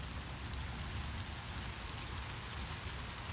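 Rain falls steadily during a thunderstorm in Pittsburg, Kansas, a soft continuous wash of droplets with no distinct thunder claps and no voices.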